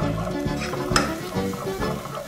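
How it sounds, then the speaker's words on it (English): A spoon stirs turmeric rice in a pot, giving a brief scrape and clink over a low sizzle in a short, close burst with no voices. "So we're going to stir this"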